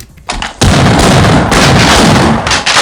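Shotgun fire in the Half-Life GoldSrc engine game: several loud, booming blasts in quick succession, close and dense, with no talking.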